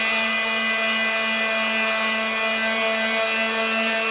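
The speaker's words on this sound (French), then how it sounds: "si je veux pouvoir poncer quelque chose de relativement compliqué dans un coin, c'est avec cette partie que je peux le faire" A Fein Supercut oscillating multitool sands wood, giving a loud, steady high-pitched buzzing whine with a constant droning tone and gritty rasp, continuous and close with no talk.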